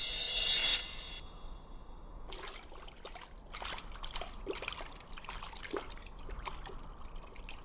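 Water trickles and drips from the Zamzam spring, a soft, steady running flow with scattered small splashes, faint and alone after a brief louder burst at the start.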